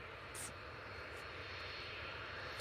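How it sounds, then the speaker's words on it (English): An EasyJet Airbus A320-200 begins its takeoff roll, a faint, steady, distant jet engine rumble and hiss continuing without a break, with a couple of brief higher-pitched blips on top. "EasyJet now on the roll. A320-200."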